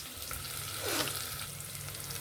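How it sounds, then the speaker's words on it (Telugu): Onions frying in a pan on the stove, a steady close sizzle running throughout with a brief louder swell near the middle, no voices. "ఉల్లిపాయలు బాగా వేగిపోయాయి. ఉల్లిపాయలు మంచిగా వేగిపోయాయి బాగా."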